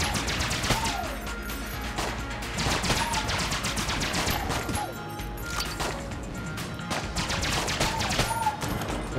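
Guns firing rapidly in the dungeon-crawler shooter Enter the Gungeon, a dense, continuous barrage of loud shots and impacts layered over game music and effects, with no pause across the stretch.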